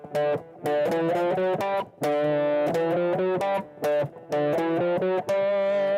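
Bass line from the Mario Kart Wii soundtrack playing alone, a bouncy, syncopated run of stepping notes with short gaps, clear and up front for a few seconds.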